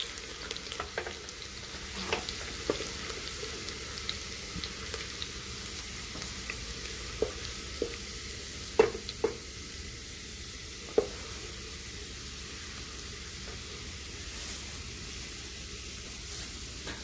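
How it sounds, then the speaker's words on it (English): Garlic frying in hot oil in a pan for green and yellow beans, a steady soft sizzle throughout with a few sharp pops and crackles scattered over it, fairly quiet and close. "I will add the garlic in and have it for a few minutes as soon as it starts changing colors."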